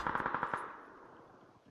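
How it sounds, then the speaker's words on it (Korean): Rapid automatic gunfire in the video game PUBG: a quick burst of about six shots, moderately loud, then a long echoing tail fading away, with no voices. "맵을 보며 포복으로 기어가고 있는 와중에 총소리와 함께 등장한 적을 발견하게 된다."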